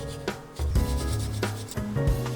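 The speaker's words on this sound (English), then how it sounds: "I'm just going to grate it using this, which is actually a kind of wasabi grater" Ginger being grated on a Japanese wasabi grater: rough, rhythmic rubbing strokes, about four passes, close and fairly loud with nothing else heard.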